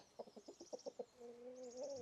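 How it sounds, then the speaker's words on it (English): Chickens cluck in a quick run of about eight short calls at the door of their coop, close by, then a longer drawn-out squawk follows, with faint bird chirps high in the background. "The chickens are already at the door, waiting for me to come and let them out."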